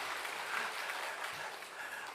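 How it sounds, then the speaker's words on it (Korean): Church congregation applauding during a Sunday service, a dense, steady patter of many hands clapping that holds evenly for about two seconds, with no voices over it. "박수 소리가 적어서 취소할까 합니다."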